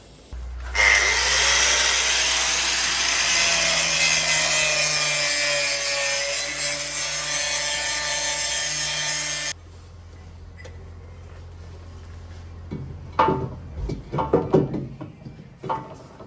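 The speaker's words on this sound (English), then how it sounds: "So I'll trim this piece off here" A power tool grinds or saws through a Land Rover Defender 300Tdi 110 cross member, a loud continuous cutting whine for about nine seconds, then stops, followed by quieter clanks and handling noises.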